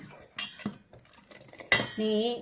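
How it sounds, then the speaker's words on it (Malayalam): A spoon scraping and clinking against a pan as aval payasam of flattened rice in milk is stirred, a few close strokes followed by a steady tonal hum. "ഇത് നന്നായി ഇളക്കണം, അല്ലെങ്കിൽ ഇനി അടി പിടിക്കും."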